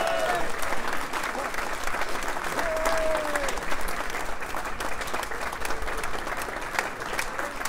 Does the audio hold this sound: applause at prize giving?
yes